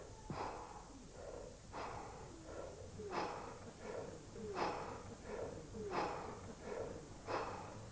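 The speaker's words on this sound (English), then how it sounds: "Controlled deep breathing helping him." Strongman in a 1984 strength event drawing deep, controlled breaths, a steady series of about six loud snorting inhales and exhales at regular intervals, close by, with no talking.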